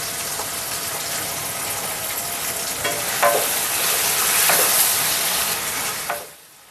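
Curry leaves sizzle loudly in hot oil in an Andhra-style chicken pan, a steady broadband crackle lasting several seconds with a few sharper pops before it cuts off abruptly near the end.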